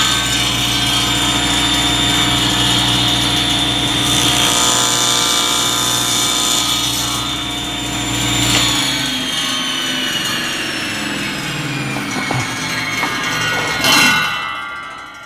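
A table saw fitted with a thin kerf blade rips a short cut into a wooden zero clearance insert: a loud motor whine under the strain of cutting, then the blade spinning down with a final clunk near the end.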